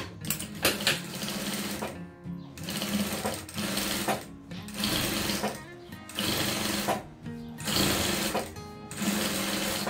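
A sewing machine stitches fabric scraps for a rug in bursts of rapid mechanical whirring, stopping and starting several times with short pauses between runs, close and clear.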